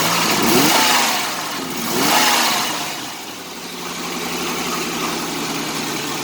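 1987 Chevrolet Celebrity Eurosport engine, idling high and stumbling, revs up twice in surges that hesitate and sag when given gas, then settles into a rough, uneven idle; loud and close, no talking.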